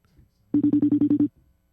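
A telephone rings in a steady burst of rapid electronic pulses, about eight quick beeps, fairly close and clear, with faint voices just before and after.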